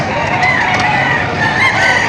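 A rooster crows loudly and close at a livestock auction market, with clucking fowl and a dense crowd of chickens filling the background.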